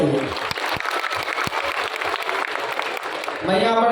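Loud, dense applause from a large crowd at a district foundation-day celebration in Madhubani with a comedian performer, sustained for several seconds before a voice cuts in at the end.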